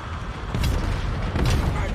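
Cannon fire from a Total War: Warhammer III battle, Cathay forces against Be'lakor, two heavy booming blasts rolling over dense continuous battle din, loud and close in the mix.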